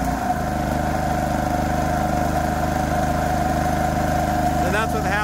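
Kipor KGE3000TI inverter generator running under about half load after a carburetor cleanout, a steady, close mechanical engine drone with an even hum throughout.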